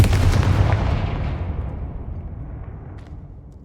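Confringo fire blast spell from the Hogwarts Legacy video game bursts with a loud, booming explosive blast that decays into a long rumbling tail, alone with no talk.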